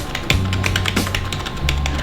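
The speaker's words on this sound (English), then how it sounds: "Definitely tell it's a membrane keyboard." Quiet, soft keystrokes tap steadily on a cheap $12 wired membrane gaming keyboard, close up, over a constant background hum with no talking.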